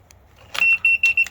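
Four short, piercing electronic beeps in quick succession from a CARMTEK 10-digit RV door lock set to high volume, loud and close.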